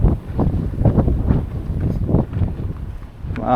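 Coastal wind buffets the microphone in loud, uneven gusts of low rumbling noise during an outing by the sea.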